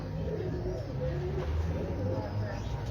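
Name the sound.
pigeon cooing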